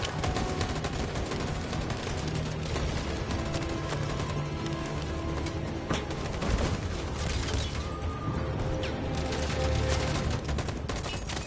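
Heavy sustained gunfire in Detroit: Become Human, a dense, loud fusillade of overlapping rifle and machine-gun shots rattling continuously with booming impacts throughout, almost no pauses.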